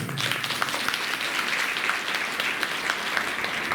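Audience clapping during a Shrimad Bhagavat Katha religious gathering, steady continuous applause at moderate level throughout.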